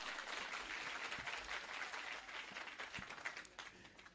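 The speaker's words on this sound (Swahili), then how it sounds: "Jamani, makofi ya chairman." Faint, dense applause from a crowd honouring a chairman at a gathering where Raila meets musicians in Murang'a County, a steady wash of clapping that thins slightly toward the end.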